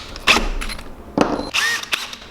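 Power drill boring a hole into a wooden largemouth bass wedge-nose glidebait lure, heard as several short, close whirring bursts with pauses between them.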